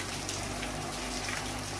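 Rain on a rainy day, a steady even patter close by with no breaks and no voices.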